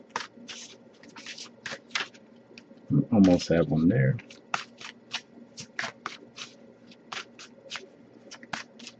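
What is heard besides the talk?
shuffling tarot cards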